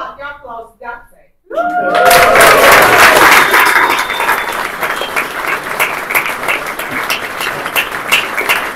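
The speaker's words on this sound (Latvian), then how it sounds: "Vislielākie aplausi Ģaksei." A short spoken line gives way to a burst of loud audience applause at a photography symposium, many hands clapping densely, then easing into a thinner, uneven patter with a few chuckles.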